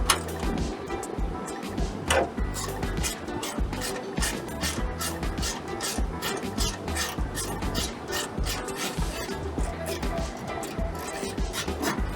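A ratchet with a 10mm socket works loose the fender bolts on a 2013-2018 Toyota RAV4, giving a continuous close raspy clicking and rubbing, while someone talks over it.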